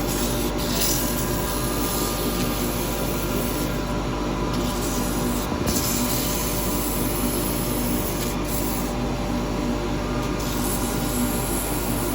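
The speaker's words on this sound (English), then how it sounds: "Right, very quick sand on it." Steady, continuous abrasive rubbing of sandpaper held by hand against a small wooden pot spinning on a lathe, constant and close, with a faint mechanical hum underneath and no pauses.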